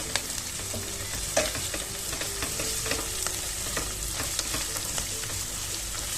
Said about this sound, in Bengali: Garlic paste half spoon, ginger paste half spoon. এগুলো ভালো করে কষাতে হবে